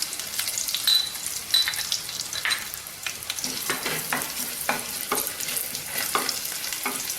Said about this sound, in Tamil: கொஞ்சம் பச்சை மிளகாய் நல்லா வதங்கட்டும்